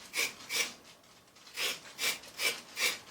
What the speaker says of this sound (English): A lot of folk pare their carrots, but I just scrape them.